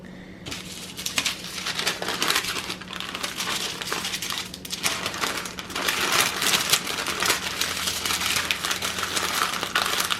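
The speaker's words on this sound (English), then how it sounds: "We're putting some parchment paper down first so that these don't touch the foil" Parchment paper and aluminium foil crinkle and crumple close up as vegan jackfruit and seitan ribs are wrapped, loud irregular rustling that continues throughout with bursts of heavier scrunching.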